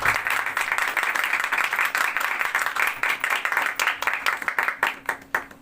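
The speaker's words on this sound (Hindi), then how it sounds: "जोरदार तालियां खुदा के जलाल की जाती है" Congregation applause in a church service, many hands clapping in a dense, loud burst whose sharp individual claps stand out as it rises and gradually thins.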